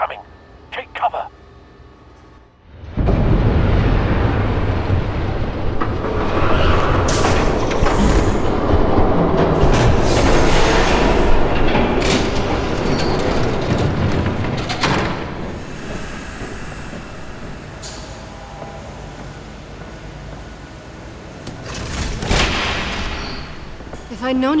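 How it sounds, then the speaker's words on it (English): A train rumbling past in the Batman Telltale video game, a loud sustained roar with clanking bursts that fills most of the stretch after a quieter opening. "There's a train coming."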